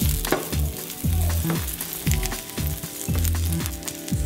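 Sliced almonds fry in butter in a pan, with a close, busy sizzle and a steady crackle running throughout. Repeated low clanks of a utensil or the pan recur in a loose rhythm about every half second.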